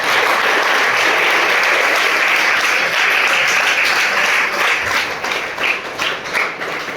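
A large audience applauds at the close of a lecture on mobile phone de-addiction, a dense, steady wash of many hands clapping that stays loud for about seven seconds with no talk.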